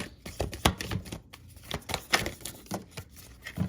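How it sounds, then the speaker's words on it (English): Tarot cards being shuffled by hand, a close series of quick papery riffles and taps in irregular bursts with brief pauses, fairly quiet and without talk. "y'all see me shuffle, y'all"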